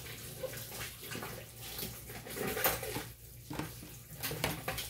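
Dishes and plates being washed under running water at a home sink, a steady wash of water with occasional clinks of crockery and cutlery close by, no talking.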